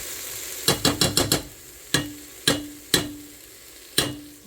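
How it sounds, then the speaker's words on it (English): A spoon stirs bouillon season base into vegetables in a soup pot for split pea soup: a quick run of five sharp metallic knocks, then four slower, evenly spaced clinks against the pot, close and clear. "we're just gonna stir this in out of the vegetables"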